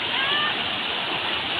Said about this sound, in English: Look, wow, the speed of water is very high.